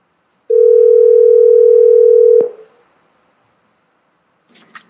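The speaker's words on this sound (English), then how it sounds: "I'm going to tap on the phone app, and I'm going to call Deidre" An outgoing cellular call on an Apple Watch sounds one loud, steady tone for about two seconds that cuts off abruptly, followed by quiet and a faint sound at the end.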